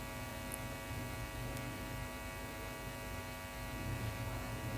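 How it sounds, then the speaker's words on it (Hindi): Sewing machine stitching fabric: a continuous, even electric motor hum with a buzzing tone that runs unbroken, fairly quiet and with no voices. "तो मैं इसके ऊपर सिलाई लगा रही हूँ।"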